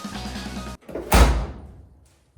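The door of a Chevy K10 squarebody pickup swings shut with sound-dampening material installed, a single solid thud after a brief rattle of handling, decaying quickly into quiet.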